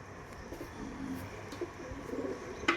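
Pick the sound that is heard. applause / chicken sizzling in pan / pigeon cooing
pigeon cooing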